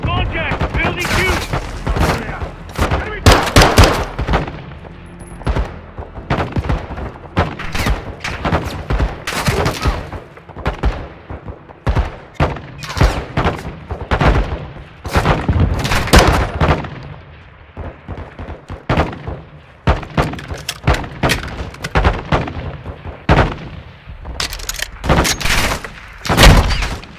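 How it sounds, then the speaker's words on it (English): Dense bursts of automatic gunfire and heavy weapon blasts in a Call of Duty Modern Warfare 2 firefight, rattling continuously and loudly near the listener, with occasional voices underneath. "Crash site is taking rocket fire from building 2!"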